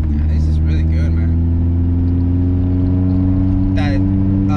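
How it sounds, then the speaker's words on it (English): Exhaust note of a lowered 1999 Mazda Miata NB, a steady low droning hum with a constant engine tone under road noise, heard from inside the car with brief voices in the background. "That exhaust has a nice tone to it."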